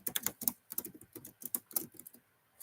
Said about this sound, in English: I don't know if you can hear the clicking, but my keyboard is so loud